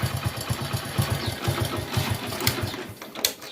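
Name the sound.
motorbike engine idling after kick start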